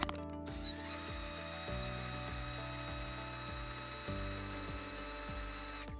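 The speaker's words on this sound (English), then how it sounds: "we're going to use the power of the drill to spin out all that dust" A power drill spins a shop vacuum filter mounted on a bolt, giving a steady whirring hum with a repeated ratcheting, clattering rhythm throughout, loud and close.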